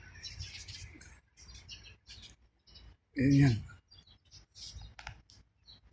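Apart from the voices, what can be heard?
birds chirping in desert trees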